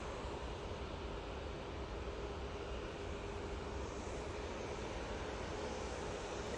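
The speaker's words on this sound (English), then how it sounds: "we're getting ready now for the Qatar 777-300ER coming in from Doha" A Qatar Airways Boeing 777-300ER arriving from Doha on approach to land at Manchester Airport, a loud, continuous broadband jet roar that stays steady and close for the whole stretch, with no talking.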